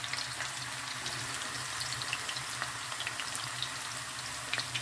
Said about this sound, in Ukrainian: Вона починає відразу смажитись, але вона пріти тут не буде, тому що тут вологи немає.